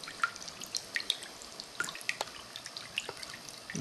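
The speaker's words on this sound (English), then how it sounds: "It's delightful water sounds." Water trickles and drips in a handmade glazed ceramic cat fountain, a quiet, close patter of small irregular drops and light splashes over a soft running-water bed, with no voices.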